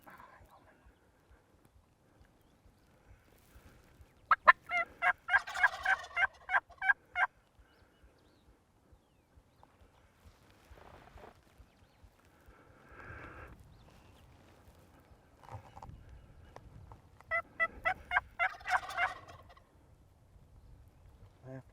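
Wild turkeys in Texas gobble in two loud rattling bursts, one early and one later, each a rapid run of pulsing calls, with quiet stretches and faint rustling between them.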